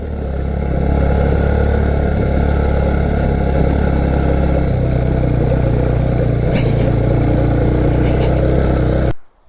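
A vehicle rolling over a loose, unpaved stone road in the hills of the Jhelum Valley, with stones flying and tyres slipping: a loud, continuous engine drone and road rumble, with a brief clatter near the end before it cuts off.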